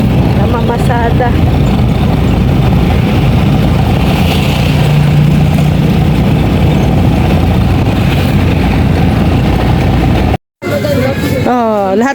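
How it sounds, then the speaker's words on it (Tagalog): A tricycle's small engine drones steadily during a ride, loud and continuous with road rumble, briefly cutting out near the end as a voice speaks over it. "Ayan, tricycle muna tayo."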